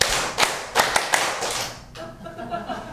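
A church congregation at an evangelistic meeting claps together in a rhythmic pattern, several sharp collective claps in quick syncopated succession, then the clapping stops and the room falls to a quieter hum.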